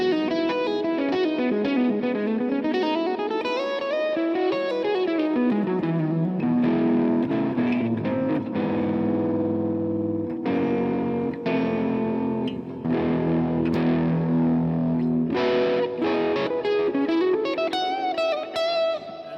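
Gibson L6S electric guitar run through different pickup settings with distortion and chorus, sliding melodic runs giving way to strummed and chopped chords, loud and sustained with no talking.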